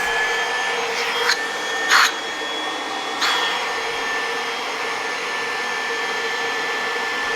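A Kirby vacuum cleaner runs steadily with a close, loud motor whine and airflow hiss, broken by a few short bumps and surges of suction noise.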